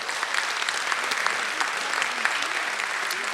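A final round of applause for a chancellor at a community forum in a synagogue facility, continuous mid-distance clapping from a modest audience, steady and even throughout.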